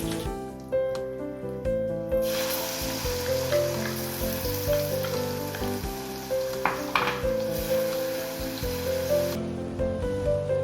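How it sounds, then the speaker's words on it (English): Curry paste sizzles and fries loudly and steadily in a pan for a Kerala-style coconut fish curry. The crackle is continuous, and tonal music plays underneath throughout. "To this, I'm going to add the curry paste which we made earlier."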